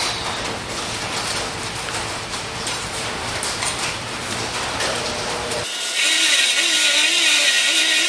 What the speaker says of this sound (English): I'm gonna go wire wheel this